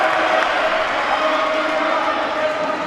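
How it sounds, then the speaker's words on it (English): An indoor athletics crowd at a women's 3000m race applauds and cheers a runner in a continuous, dense wash of noise, with a commentator talking over it throughout. "now applauding as he goes for an indoor PB"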